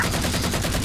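Weapon fire in the video game Halo 4, a dense sustained burst of rapid automatic gunshots, loud and close, with no pauses.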